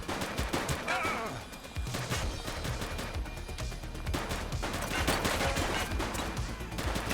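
Sustained gunfire in The Precinct police game: rapid overlapping shots and bursts fill the whole stretch, loud and dense, with shouted voices mixed in among the shooting.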